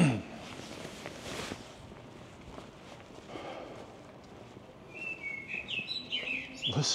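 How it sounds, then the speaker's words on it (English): A bird sings in an empty courtyard in rainy Angers, France, with bright chirps rising clearly toward the end over soft ambient noise and faint footsteps. "Listen to that bird."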